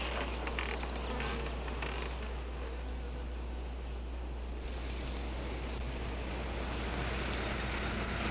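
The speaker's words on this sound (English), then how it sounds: "If you knew about wasps what I know, you'd have no fear of them" Wasps in a classic colorized horror film buzz in a dense, continuous drone throughout, steady and fairly close, with no voices over it.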